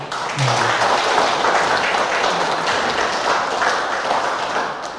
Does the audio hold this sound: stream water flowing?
no